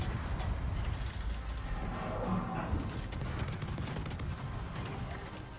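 Naval broadside gunfire in World of Warships, a steady rumbling barrage of heavy cannon shots rolling on without pause, loud and continuous throughout.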